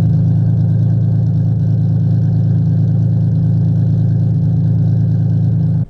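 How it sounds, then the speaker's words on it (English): A car engine idling steadily and loudly up close, a smooth continuous low rumble with no revving, cutting off abruptly at the end. "The idle purr of the car right now is just amazing."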